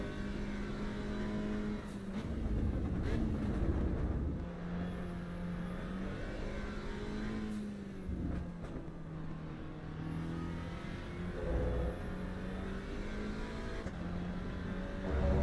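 Simulated Lexus LFA engine in a racing video game on hypercar tyres, revving steadily with smooth, quick gear shifts that briefly dip and recover the loud, continuous drone, with no talking.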